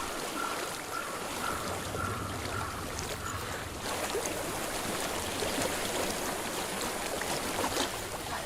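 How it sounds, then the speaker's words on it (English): Steady flowing water in Hellblade: Senua's Sacrifice, a continuous rushing stream that fills the scene evenly from start to finish with no voices. "I hear water. Go to it."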